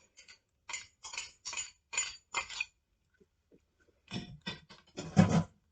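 A utensil stirs thick coconut cream into shrimp in a bowl, making short clinking, scraping strokes in two separate bursts with a quiet gap between them, close and fairly soft.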